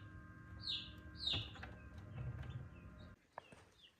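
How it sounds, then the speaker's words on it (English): Baby chicks pipping out of their shells while hatching give a few faint, high peeps over a low background hum, with soft rustling and a quieter stretch at the end. "they are looking to hatch right now and are pipping out of their shell"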